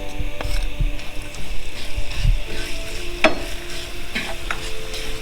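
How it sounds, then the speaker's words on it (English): Lemongrass frying in oil in a pan for Vietnamese spicy beef and pork noodle soup, a continuous low sizzle under scraping and clinking as it is stirred, with a few sharper utensil knocks. "I'm going to start out with the lemongrass because it's going to take a lot longer to cook than the shallots"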